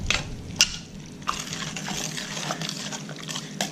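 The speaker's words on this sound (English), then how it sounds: "We get everything stirred up." Sausage and mushrooms being stirred into a thick spaghetti sauce in a pan, soft wet scraping and squelching with a few light clinks of the spoon, close and fairly quiet.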